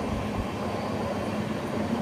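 Kondaveedu Express rolling around a curve on the approach to Yesvantpur, Bangalore: a steady, loud rumble of wheels and carriages that holds unchanged for about two seconds, with no voices.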